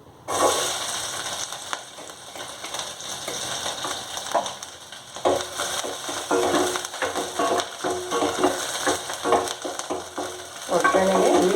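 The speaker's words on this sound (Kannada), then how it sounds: "ಎಣ್ಣೆ ಹಾಕಿದ್ದೀನಿ. ಒಗ್ಗರಣೆಗೆ ಈರುಳ್ಳಿ ಹಾಕಿ" Onion frying in hot oil as a tempering for saaru, a steady close sizzle with stirring and scraping clatter throughout.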